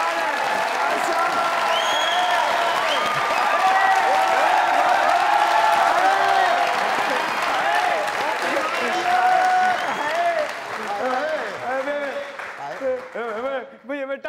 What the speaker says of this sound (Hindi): मुझे तालियां मार मार के ना दिखाओ